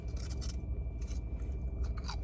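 Buc-ee's Beaver Chips being crunched in the mouth, a steady run of close, crisp chewing crunches with no talk.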